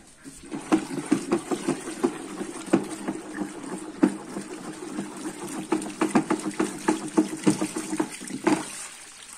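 Butyl glycol poured and stirred into a soda mixture for a homemade degreaser, giving close, repeated liquid sloshes and clinking stirring strokes in an irregular rhythm, with no talking.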